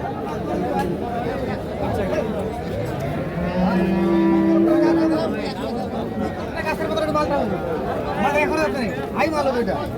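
Friesian cross bulls moo at a busy cattle market at Kaharol, with a long low bovine call standing out midway over a constant hubbub of crowd chatter and livestock noise.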